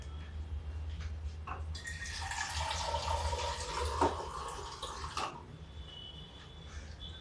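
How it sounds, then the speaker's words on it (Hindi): Water is poured into a pan of roasted rice for kheer, a gushing, splashing flow that rises midway, runs for a few seconds and then fades, over a low background rumble. "थोड़ा सा पानी और डालते हैं।"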